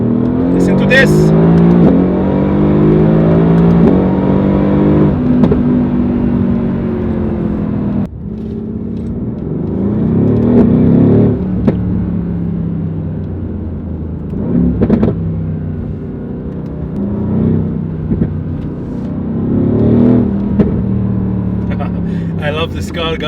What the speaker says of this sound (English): I just want you to hear the noise, you know, hear the engine.